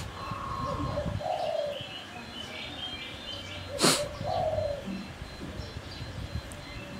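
Anggungan doves coo in soft, repeated calls outdoors in the morning, moderately near against a low rustling background, with one sharp louder call in the middle.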